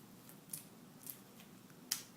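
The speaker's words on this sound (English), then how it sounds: "I'm going to point it inside the bag, and then I'm going to cut." Scissors snip through plastic drinking straws in three quiet, sharp clicks spaced about half a second to a second apart, over a low background hum.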